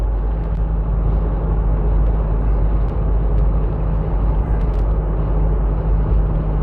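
Car cruising through Long Beach, a constant broadband road and engine rumble with a steady low hum, heard from inside the vehicle without any talking.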